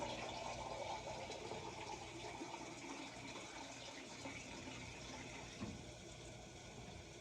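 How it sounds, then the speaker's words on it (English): Tap water runs steadily into a pot of rice, a faint continuous gushing and splashing with a soft low rumble, alone and without talk. "Now I'm going to fill it right back up with water, the same amount of water that I had rice."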